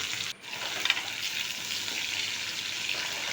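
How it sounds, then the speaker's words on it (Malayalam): Ginger fries in hot oil with mustard seeds, fenugreek and dried chillies for a puli inji, giving a constant close crackling sizzle with one brief dip near the start and no voices. "ഇനി അതിൽ കുറച്ച് കടുകും ഉലുവയും വറ്റൽമുളകും കൂടി ഞാൻ കൂട്ടത്തിൽ തന്നെ വറുക്കുക കേട്ടോ."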